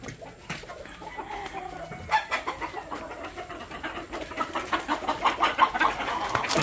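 Chickens clucking and calling during feeding with mixed feed, a busy flock heard close up, the clucks growing denser and louder toward the end, with no voices over them.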